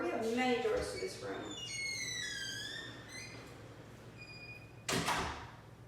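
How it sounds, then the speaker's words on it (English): A door slides and bumps once near the end as a trainer steps out of a room, a short close sound following chirpy whistle-like tones and a voice. "I'm going to step out another door."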